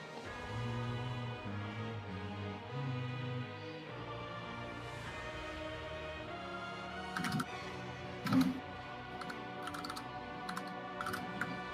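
Someone types on a computer keyboard during a livestreamed God of War II speedrun. Scattered faint key clicks come and go, strongest in the second half, over steady background hum and game sound.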